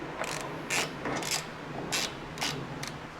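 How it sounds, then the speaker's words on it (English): A hand ratchet tightens spacers while a Rough Country tailgate table is fitted to a Jeep, making about half a dozen short, close bursts of rapid clicking separated by brief pauses. "Might be easier with a ratchet."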